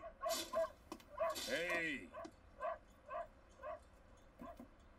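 A dog barks and yips in a Cowboy Bebop anime episode, several short bursts spread through the moment, mixed with voices speaking over and between them.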